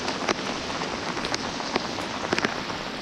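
Heavy rain downpour during a fishing trip in a thunderstorm, a dense steady hiss of rain with sharp individual drops pattering close by on a nearby surface.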